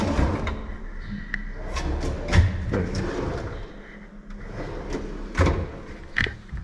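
Kitchen drawers slide and bump shut a few times, with soft thuds and rolling scrapes in a quiet room.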